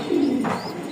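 A pigeon at a pigeon farm gives a single short, low coo, close and fairly loud, with a faint chirp from another bird behind it and no talk.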